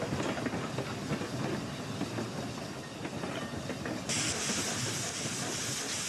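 A Shay steam locomotive running in American Railroads, a steady rhythmic chuffing rumble with rail clatter, then a loud hiss of escaping steam near the end.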